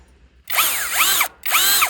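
A power drill bores with a drill bit in two loud whining bursts separated by a short pause, its pitch rising and falling as the load changes.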